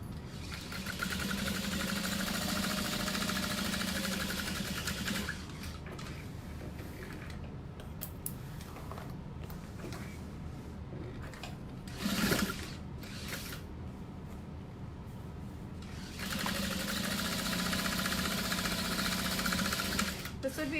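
A sewing machine runs in steady, loud bursts while basting pockets onto a vinyl handbag, stopping briefly in the middle for handling noises before running again.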